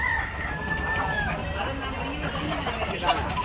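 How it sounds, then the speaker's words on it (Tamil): Roosters crow and chickens cluck at a temple chicken auction in Jaffna, Sri Lanka, the birds close and loud amid crowd chatter while someone talks over them. "இந்த கூட்டுக்கு நிற்கிற கோழிகள் எல்லாம் பார்த்தீங்கன்னு சொன்னால் இந்த கோயிலுக்கு வந்து நேர்த்தியாக வந்த கோழிகள்"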